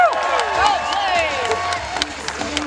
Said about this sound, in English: A nice round of applause for Superman.